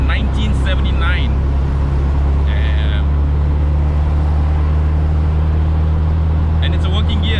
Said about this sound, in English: I love to hear the engine and feel what the car is communicating to me.